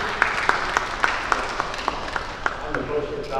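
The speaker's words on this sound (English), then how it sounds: "give him a round of applause even before he opened his mouth" Rhythmic, evenly spaced claps ring out at a conference session, a few distinct hand claps over a softer bed of applause, with some talk mixed in underneath.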